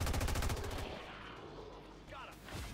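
A rapid burst of gunfire from a soldier in XCOM 2, a fast rattling string of shots for under a second, then quieter ambient sounds and a faint swishing noise.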